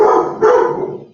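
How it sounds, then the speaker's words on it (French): Dogs barking and howling behind a closed door, heard as a muffled, loud burst of voices that swells again midway and then trails off. "Ah, voilà les chiens qui hurlent."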